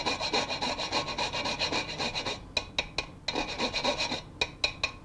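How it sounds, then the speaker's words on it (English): Whole nutmeg scraped against a grater in steady, rhythmic rasping strokes, close and clear, with a few short pauses between quicker strokes and no talking. "Grate the nutmeg, about a quarter of a whole one."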